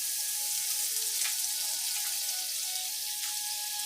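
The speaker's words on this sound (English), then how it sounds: "Drop your teaspoon of butter in the frying pan" Steady hissing sizzle throughout, butter frying in a hot frying pan, with a few faint pops over the continuous crackle; no voices.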